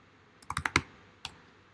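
A short burst of typing on a MacBook Pro 15-inch laptop keyboard: about five quick, soft key taps in a cluster, then one more a moment later, close and quiet with no talking.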